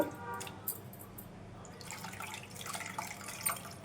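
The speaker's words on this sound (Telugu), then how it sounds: "ఇంకొద్దిగా వాటర్ వేసుకుందాం" Water is poured into a pot of tomato rasam, a faint, trickling splash of liquid running for a few seconds in a quiet kitchen.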